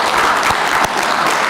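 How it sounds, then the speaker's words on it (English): Audience applause at a public address, a steady dense wash of clapping filling the whole moment, loud and continuous without any speech over it. "Our people do want a round of applause for this commitment."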